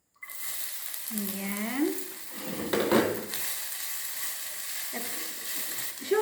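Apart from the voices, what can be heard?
sautéing in olive oil in a pan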